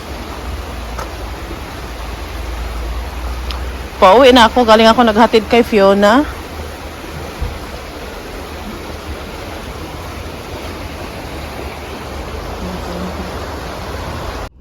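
Rainwater runs on in a constant broadband rush after days of rain, loud and close; someone speaks briefly over it partway through, then the steady flow continues alone.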